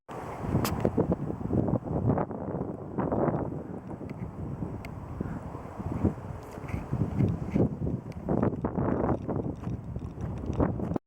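Strong wind buffets the microphone outdoors on a walk near a castle above a village, a continuous rough rumble with gusty swells and no talking.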